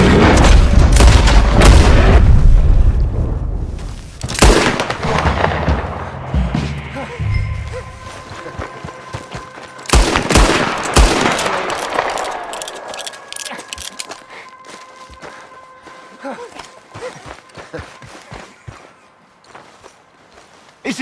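Gunfire in Red Dead Redemption 2 erupts in loud, heavy booming shots clustered at the start and again midway, with thuds and clatter between and a fading tail.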